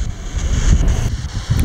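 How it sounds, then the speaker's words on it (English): Gusty wind buffets the microphone outdoors at a pet cemetery in Las Vegas, a low rumbling roar that swells and dips in short surges. "It is a bit windy, so we're gonna do our best with the audio."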